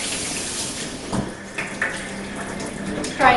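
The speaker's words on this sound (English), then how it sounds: "you're going to wash these because there could be some residue, some dust. So just wash that quite well" Wheat berries are rinsed under a running tap, a steady splashing water flow with brief swishes and clunks as the grains are stirred and handled.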